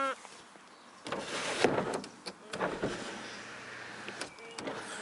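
Electric sunroof on a 1994 Mercedes W124 E220 saloon, its motor whirring in short bursts with soft mechanical clunks as the panel moves, heard close up inside the car with brief talk.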